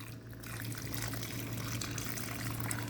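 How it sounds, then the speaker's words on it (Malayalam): Mutton cooking water pours into a pan for a peanut masala, a continuous rushing, gurgling stream of liquid at a fairly quiet level with a low hum beneath; no voices. "മട്ടൻ കുക്ക് ചെയ്ത വെള്ളം. ഈ വെള്ളം കളയരുതിട്ടോ, ഇത് ഇതിലേക്ക് ഒഴിച്ചു കൊടുക്കണം."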